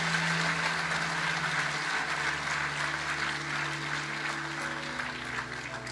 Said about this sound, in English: Give her one more clap, please.